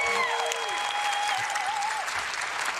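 Loud, steady applause from a large audience at PAX East 2026 fills the whole stretch, with whistles and cheers rising above the clapping.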